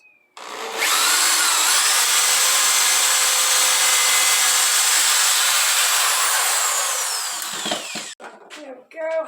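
A power drill runs loud and steady for about seven seconds while boring into small pre-drilled holes in a wooden cabinet with a 1/4-inch bit, then winds down into a few clattering handling sounds.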